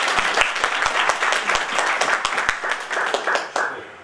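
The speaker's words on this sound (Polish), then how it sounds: "Witamy serdecznie, ogromne brawa." Audience applause at a sung poetry competition, dense clapping from a crowd held steady and fairly loud throughout, with a brief swell near the end.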